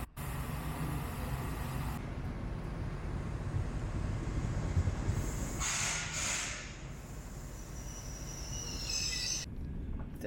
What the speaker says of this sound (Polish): Teraz jedziemy trochę innym pociągiem, co prawda, ale też fajne.